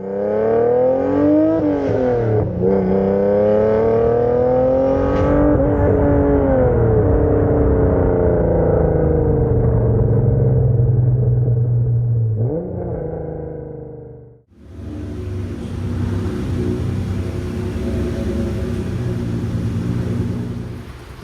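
An Acura NSX sports car, repaired after being badly damaged, drives with a loud engine drone whose pitch climbs and falls through gear changes, then dips briefly before settling into a steady, strained whine.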